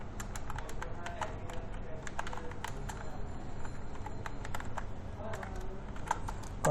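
Fingers type on a computer keyboard in rapid, irregular runs of crisp clicks and taps, close and steady throughout, with a faint murmur of background noise underneath.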